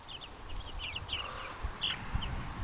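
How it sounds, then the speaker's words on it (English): Chickens on a family farm clucking softly and intermittently at a distance, with a few brief higher calls over low outdoor rumble. "There's chickens everywhere these days."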